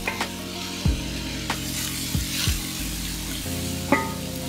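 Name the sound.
beef searing in canola oil in a hot skillet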